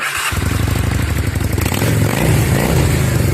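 A Honda Steed 400 motorcycle engine catches after a short starter crank and settles into a loud, close, steady idle with a throbbing rumble.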